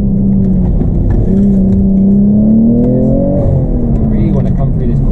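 A BMW M240i (G42) on lowering springs drives past at a corner with traction control off, its engine droning loud and close, pitch rising and falling as it revs.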